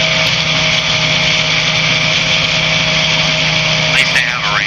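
A light aircraft's engine drones steadily at close range in the cabin while the plane taxis toward a runway, a loud constant hum throughout with a brief tonal sweep near the end.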